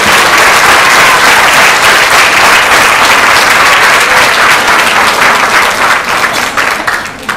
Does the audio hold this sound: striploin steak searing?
no